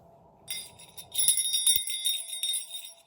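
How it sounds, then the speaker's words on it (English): A small bell jingles and tinkles in bright, ringing bursts, shaken repeatedly for a couple of seconds with shimmering overtones that linger. "I shook the bell."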